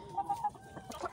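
Roosters in a crowded chicken coop where several males fight daily, giving short, close clucking calls in a few quick bursts with no talk.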